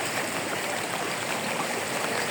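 Floodwater rising as high as the highway, a steady, dense rushing wash that holds at an even level without pause, with no talk over it.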